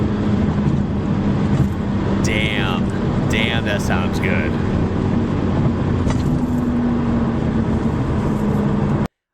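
German car driving at speed on the Autobahn, a steady engine and road drone running throughout, with brief whistling, chirping sounds partway through.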